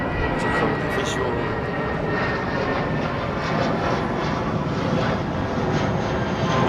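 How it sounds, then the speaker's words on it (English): A jet airliner comes in to land on a Heathrow runway, heard as a steady, broad roar from a distance. The drone stays even throughout, with faint voices nearby. "that aircraft there is most definitely coming in on the right hand runway"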